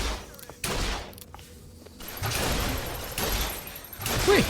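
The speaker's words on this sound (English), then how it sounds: "there's also a machine gun turret besides those soldiers" A machine gun turret in Bioshock Infinite rattles off bursts of gunfire amid combat noise, with loud stretches of sustained shooting separated by brief quieter gaps and sharp hits.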